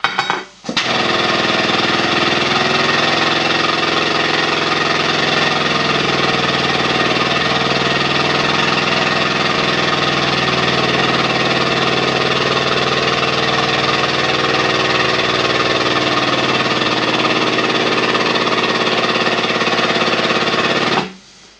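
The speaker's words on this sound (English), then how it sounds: "Got the air compressor going there for power in the port-a-power pump, which is a air over hydraulic." An air compressor runs continuously and loudly nearby, a steady dense mechanical chugging drone powering an air-over-hydraulic port-a-power pump, starting abruptly and cutting off at the end.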